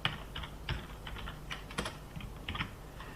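Quick bursts of typing on a computer keyboard, close and fairly quiet, with irregular clusters of key clicks and short pauses between them.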